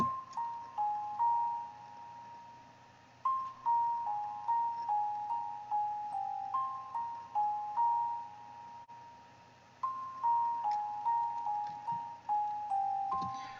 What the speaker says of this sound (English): this is like the resonator music box from the Labs plugin